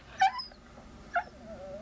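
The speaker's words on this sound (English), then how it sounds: "Lindsay, Lester's barking again and getting on my nerves again" A dog in the 1978 horror film Halloween barks twice, two short distant yelps about a second apart over quiet background noise.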